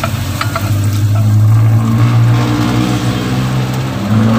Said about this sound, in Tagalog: Gisahin lang natin ang kaunti.